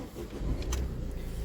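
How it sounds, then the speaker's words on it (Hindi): A car engine starts and settles into a low, steady rumbling idle, heard close and fairly quiet in a brief burst. "गाड़ी स्टार्ट हो गई है जी"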